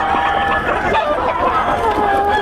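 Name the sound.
roosters (stags) brought by Boss Randy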